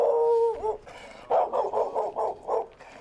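Dogs bark in an aggressive burst during a training session: a whine at first, then a rapid run of about six loud, close barks in quick succession.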